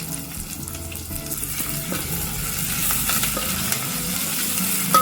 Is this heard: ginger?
yes